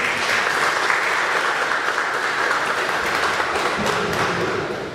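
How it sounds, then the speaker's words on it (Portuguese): A conference audience at an academic symposium opening ceremony applauds, with dense, even clapping held steady throughout before tapering slightly at the end. "Uma salva de palmas."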